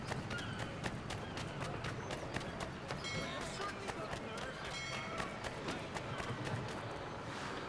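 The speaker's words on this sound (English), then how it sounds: "I'll arrange for horses while you do that." Horse hooves clip-clop steadily in Assassin's Creed III, a repeated rhythmic clatter at close range over a busy city ambience of murmuring crowd and background game sound.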